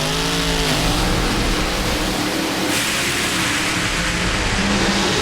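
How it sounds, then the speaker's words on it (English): A supercharged drag racing car engine idles and rolls at a drag strip during a national event, a loud, dense, steady mechanical roar that stays constant and close throughout. "Spencer Massey rolls down to the racetrack."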